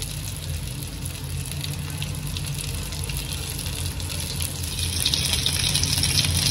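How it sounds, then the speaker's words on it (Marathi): Steamed stuffed bitter gourd frying in oil on a griddle (tava), a steady, even sizzle with no talk. "त्यामुळे आता मी फक्त ह्याला फ्राय करून घेणार आहे"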